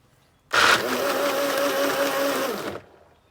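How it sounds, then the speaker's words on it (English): A kitchen blender whirs loudly and steadily for about two seconds, blending ingredients up close, then cuts off into silence. "So I'm going to go ahead and blend this up."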